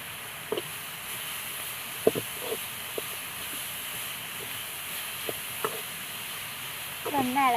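Beetroot fries in a pan for thoran, a soft steady sizzle under scattered clicks and scrapes of stirring, fairly quiet and close, with a short burst of voice near the end.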